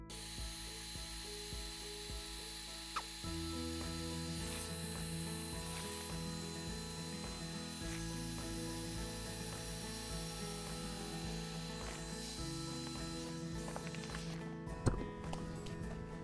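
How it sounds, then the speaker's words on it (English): An air pump runs steadily and hums as it inflates an AirSkirts inflatable RV skirt tube around a fifth wheel trailer, with a continuous mechanical drone and a few clicks, heard close up and without talk. "We're gonna go ahead again and connect the pump."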